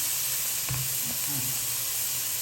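Garlic stir-fried in a non-stick pan without oil gives a steady, close sizzle and hiss, with a few soft stirring scrapes.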